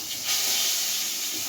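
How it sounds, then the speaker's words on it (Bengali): Pointed gourd (potol) fries in a pan with a loud, close, hissing sizzle that swells briefly at the start and then holds steady. "তো পটলটা ভেজে নেব"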